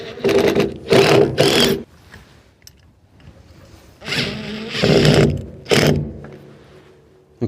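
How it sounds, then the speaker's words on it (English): A power drill driving bolts whirs in short, loud bursts, several quick runs in a row, then a pause and another group of runs, close up. "Potentially use the drill to screw those holes in,"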